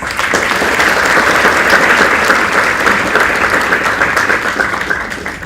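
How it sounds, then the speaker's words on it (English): A university hall audience gives Dr. S. Somnath a big welcoming round of applause, dense and loud, with a steady roar of many hands that tapers slightly near the end. "Let's welcome Dr. S. Somnath with a big round of applause."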